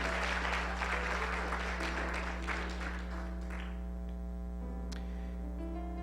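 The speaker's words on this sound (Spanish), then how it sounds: "Dale un aplauso al Señor" A church congregation claps together during a Spanish-language service, a brisk burst of applause that thins out and fades away within a few seconds over a steady electrical hum.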